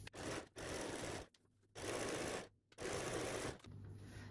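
A sewing machine stitches the lining seam of a fabric bag, running in three loud close bursts of steady whirring separated by brief pauses, with no talking.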